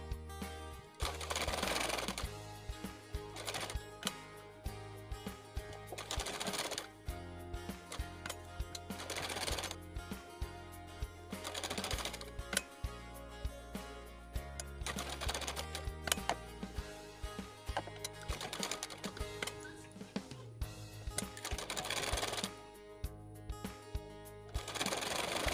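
A sewing machine runs a rough basting stitch on blouse fabric, with busy rhythmic mechanical clatter in repeated bursts and short pauses between runs, loud over a constant background.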